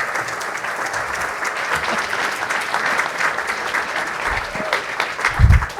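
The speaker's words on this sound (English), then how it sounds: "please do give a big round of applause to Deborah Meaden" Conference audience applauds a guest speaker being welcomed on stage, a steady, dense clapping throughout with a few louder bumps near the end.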